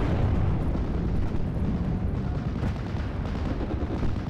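Anti-tank Pak gun firing and destroying a half-track in a WWII Normandy strategy game, a dense, continuous rumble of distant artillery and explosions rolling on without pause, loud and steady throughout.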